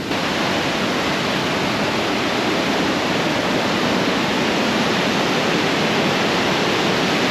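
A steady, roaring wash of falling water, loud and unbroken throughout, like a powerful waterfall heard up close, at Ustedalsfjorden near Geilo, Norway, in autumn.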